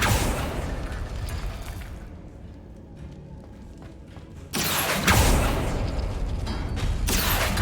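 A barricade yanked by the Accio summoning spell in Hogwarts Legacy: a creaking, mechanical pull that drops into a quieter lull, then a sudden loud rushing burst that stays dense and full to the end.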